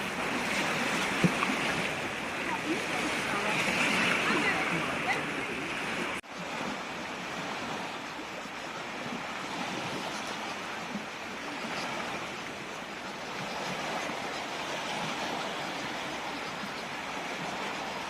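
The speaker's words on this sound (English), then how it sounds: "The sound with the waves, it's relaxing, it's talking to our soul." Steady wash of Lake Garda water lapping against the shore at Sirmione, Italy, a continuous soft rush with no voices.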